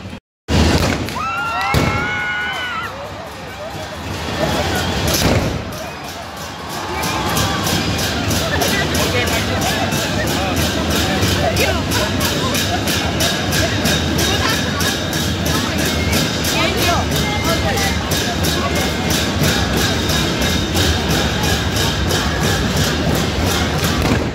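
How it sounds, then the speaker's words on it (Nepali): Army gunfire closing the Seto Machindranath jatra in Kathmandu: a few sharp bangs near the start, then loud, continuous crowd hubbub with festival noise through the rest. "सेनाले बन्दुक पड्काइसकेको छ"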